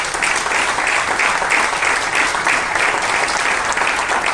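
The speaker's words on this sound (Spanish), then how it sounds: "Denle un aplauso al Señor." Church congregation clapping in sustained, even applause that fills the room, loud and close throughout with no voices standing out.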